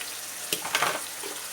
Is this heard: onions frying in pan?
yes